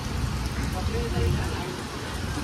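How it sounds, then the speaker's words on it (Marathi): Rain begins to fall on a Mumbai street, making a dense, even hiss and patter that holds steady throughout, with voices faintly in the background. "तर पाऊस यायला लागलेला आहे."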